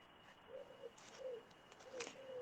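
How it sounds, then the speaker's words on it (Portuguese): Birds in a city park call in short, repeated cooing or chirping phrases, three or four soft calls spaced about half a second apart over faint background hiss, with no talking. "Com todo esse fundo musical aí dos pássaros"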